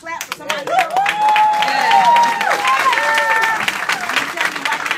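Clapping from an audience rises and carries on through a motivational talk, mixed with cheering voices and crowd noise, fairly loud and dense with overlapping vocal sounds on top.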